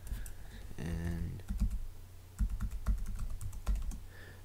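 Keys clatter on a computer keyboard as text goes into a web browser, quick bursts of clicks with short pauses between them, fairly quiet and close, with no talking.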